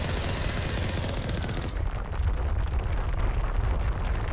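Sustained gunfire and explosive bursts in the video game Mass Effect Legendary Edition during a fight, loud and continuous, dense rumbling blasts with no talking.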